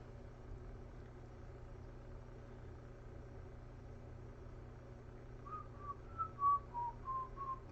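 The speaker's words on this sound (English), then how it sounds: "Why am I whistling?" A person whistles a short, faint melody of several notes that starts after a long, quiet stretch of low background rumble.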